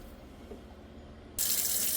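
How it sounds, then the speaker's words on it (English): Store-bought glass canning jars rinsed under a tap: after a quiet moment, running water suddenly gushes in, a loud, steady close splash and hiss that continues to the end. "I'm going to go ahead and get these rinsed off"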